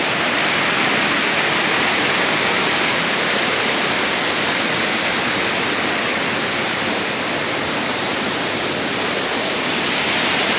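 Rushing river water in Shuar country, a loud, constant broadband roar of turbulent flow, steady throughout with no voices.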